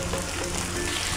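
Grated onions fry in hot oil for Punjabi chole, filling the moment with a dense, continuous close-up sizzle and no other sound.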